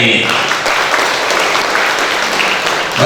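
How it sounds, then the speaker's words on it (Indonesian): Audience applause fills a hall at an IPSI Tegal board inauguration, a steady, loud wash of many hands clapping for about three seconds without a break. "Coba tepuk tangannya ini."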